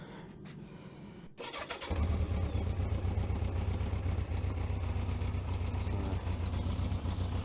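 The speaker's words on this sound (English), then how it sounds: "So we'll just turn some fuel on," Yamaha XJ900F motorcycle engine cranks briefly and catches, then settles into a steady, loud, close idle, with a short spoken word just before it starts.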